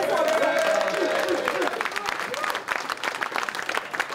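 Loud audience applause fills a live event hall for a guest, steady dense clapping at first that thins into scattered claps and crowd noise.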